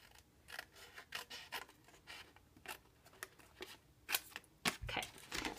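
Scissors snip through cardstock along a die-cut score line, a quiet close series of short irregular crisp cuts and paper rustles.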